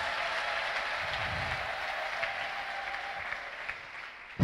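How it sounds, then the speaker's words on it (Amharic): A church congregation claps steadily in praise, a sustained, even wash of many hands applauding at moderate distance, fading slightly toward the end. "አጨብጭቡ እስቲ ለጌታ ክብር"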